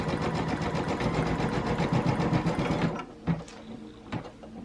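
An embroidery machine sews an outline stitch on shirt fabric with a rapid, even mechanical whirring for about three seconds, then stops, leaving a few soft clicks and thumps.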